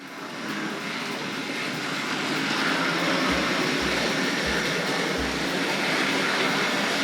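A Tri-ang Hornby model train runs along a layout toward an elevated section, making a steady broad rolling rumble with a few soft low thumps midway, with no talk.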